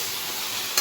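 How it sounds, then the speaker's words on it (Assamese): Food stir-fried in a home kitchen pan, with turmeric just added, gives a steady, close hiss of sizzling oil throughout, ending in a slightly louder burst of crackle as it is stirred; no voices. "মজাই আছোঁ, মজাই লওঁ।"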